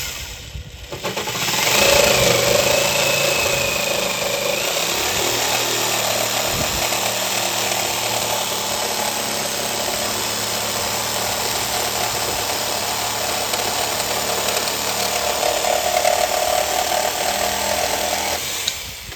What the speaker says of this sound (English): Let's put her to a test, cutting across the grain on some 3/4 inch oak.